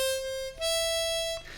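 Harmonica notes played close and clean: a single note on hole 4, a brief break, then a held, slightly higher note on hole 5, with no talking.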